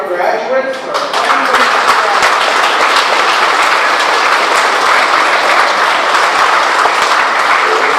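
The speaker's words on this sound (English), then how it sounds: "if we can give a round of applause to our graduates." A community gathers at a band meeting to applaud graduates at the end of the school year, loud sustained clapping from a large crowd that begins just after a short spoken phrase and keeps going at full strength.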